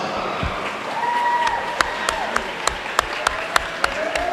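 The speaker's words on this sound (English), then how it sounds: "Let's give these ladies a round of applause." Crowd applause rises at a swim meet finals awards moment, a broad wash of clapping with a few louder, evenly paced claps standing out near the microphone, and faint voices in the background.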